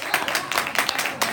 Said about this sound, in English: I'll clap for myself.